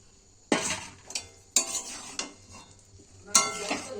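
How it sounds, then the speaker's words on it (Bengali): A spoon stirs halved new potatoes into spice masala in a kadai, sharp scraping clinks at irregular intervals over a faint low sizzle, close and fairly quiet. "এবার আলুগুলো আমি দিয়ে কষে নেব মশলাটাকে।"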